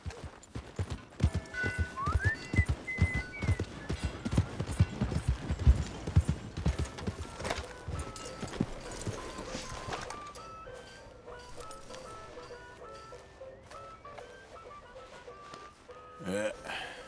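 Horse hooves clip-clopping in Red Dead Redemption 2, a brisk rhythmic run of hoofbeats up close that slows and thins into a quieter scene with light music, with talk in places.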